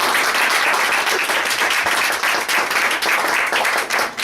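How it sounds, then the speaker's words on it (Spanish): Loud, dense applause from an audience after a thesis proposal presentation, many hands clapping steadily and close for the full stretch with small dips in intensity. "ahora lo que sigue, un aplauso, sí"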